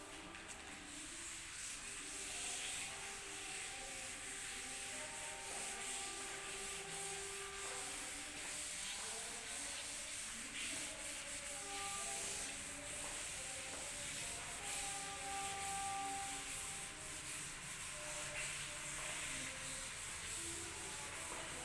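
Writing is rubbed off a classroom board in a steady, continuous scrubbing that runs without a break, quiet and close, with no talking.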